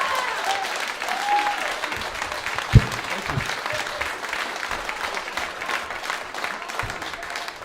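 Steady applause from an audience fills the room, with a single louder clap or thump standing out briefly.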